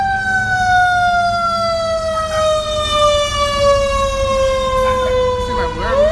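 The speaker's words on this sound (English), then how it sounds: "They hear this siren go off." A loud siren wails continuously, its pitch sliding slowly downward before swinging back up near the end, with a low rumble of traffic underneath.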